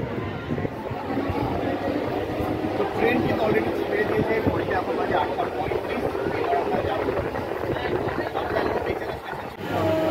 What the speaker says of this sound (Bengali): ট্রেন ছেড়ে দিল মেচেদার 5 নম্বর প্ল্যাটফর্ম থেকে